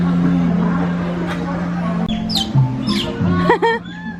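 Otters at an Animal Kingdom habitat give several short, high chirps and squeaks that sound like birds, heard close over a steady low hum and background chatter.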